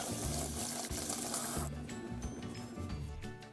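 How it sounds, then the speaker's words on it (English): Tap water runs steadily into a sink during handwashing after snow play, a continuous broadband rush that thins and quiets partway through, alone with no talk. "And that's how we wash our hands."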